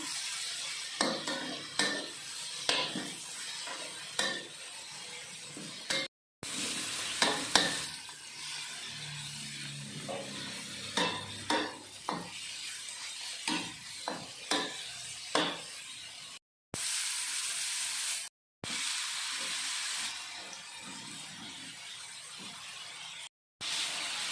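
A fried egg for stir-fried basil pork sizzles in hot oil in a pan, a steady crackling hiss broken by repeated scraping and clinking of a spatula, with brief cuts of silence between stretches.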